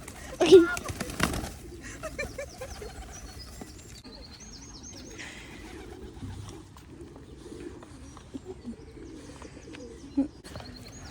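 Pigeons gather in small castle grounds, soft cooing calls and chirps mixing with wing flaps and rustling, with a sharp burst of noise near the start and people talking now and then in the background.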